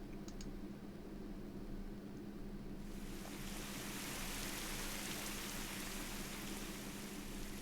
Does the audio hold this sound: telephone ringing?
no